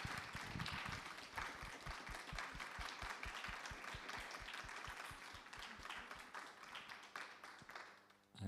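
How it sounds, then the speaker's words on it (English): An audience applauds guests at an evening event with sustained, dense clapping that fades slightly toward the end, crowd-wide and fairly distant. "could you all join me in a round of applause for our guests?"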